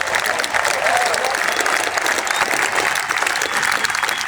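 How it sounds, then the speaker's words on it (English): An outdoor crowd at a central London march near Parliament gives sustained applause for survivors. The clapping is loud and dense, with faint cheers mixed in throughout. "Let's have a round of applause for the survivors"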